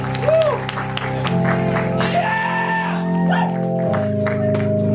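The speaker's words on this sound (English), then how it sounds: "Everybody, give the volunteers a round of applause." Comedy show audience applauding the volunteers, a dense loud wash of clapping with whoops and shouts mixed in, steady throughout with a sustained tonal hum underneath.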